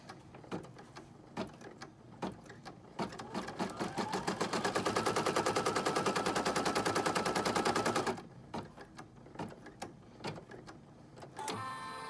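An embroidery machine stitching an applique onto felt, a fast, steady run of mechanical needle clatter that builds and holds for several seconds before stopping, then a few quieter ticks.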